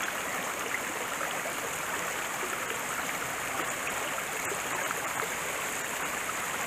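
A creek in Pisgah National Forest flows with a continuous, even rushing and babbling, close and steady throughout, with no voices.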